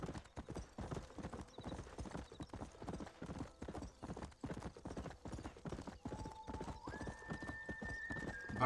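Horse hooves clip-clop steadily through a Red Dead Redemption ride, with occasional neighs and whinnies over a continuous gallop rhythm and rising musical tones near the end.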